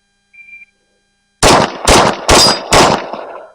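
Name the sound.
H&K MK23 pistol firing four rounds at a target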